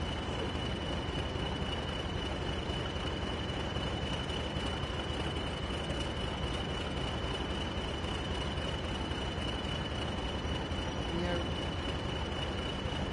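A train passes in Train Sim World 2 on the North Trans-Pennine route near Manchester, giving a steady, continuous rumble of wheels on rail with a faint high whine, unbroken throughout.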